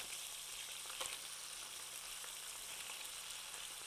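Thinly sliced chicken frying in a pan, a steady soft sizzle and crackle with occasional louder pops, close but fairly quiet, with no talking.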